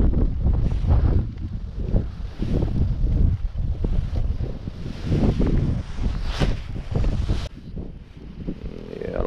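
Gusty wind buffets a nearby microphone in loud, uneven rumbling bursts while fishing at a pond in Austin, Texas, with faint water and rustling sounds beneath.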